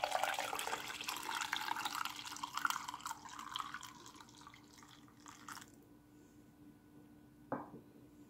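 Mango pudding mixture for panna cotta trickles and drips through a filter, a steady liquid patter that thins out and stops, followed by one brief clink near the end.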